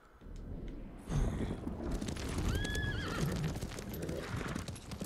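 A horse in the samurai game Ghost of Tsushima gives a clear, close neigh in the middle as its hooves clop beneath, with a busy outdoor bed of noise around it.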